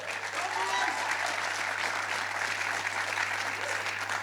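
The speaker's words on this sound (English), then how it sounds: "I think that deserves a round of applause" An audience at a UFC press conference Q&A breaks into sustained applause, a dense even wash of clapping heard from within the room that holds steady for several seconds.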